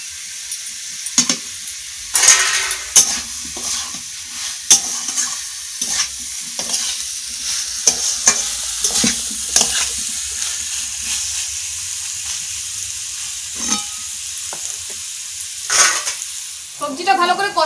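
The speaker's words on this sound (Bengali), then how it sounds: "সবজিটা ভালো করে কষানো হয়ে গেছে" Chopped cauliflower, potato and carrot sautéed with salt in a pan for a Bengali village-style dish, a spatula scraping and stirring in repeated clattering strokes over a steady close sizzle, with no talking.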